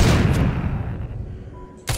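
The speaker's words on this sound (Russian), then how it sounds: "Просто бросаем гранатку." Grenade blast in the zombie video game The Walking Zombie 2, a loud booming explosion that decays over about a second and a half, followed by a brief sharp impact near the end.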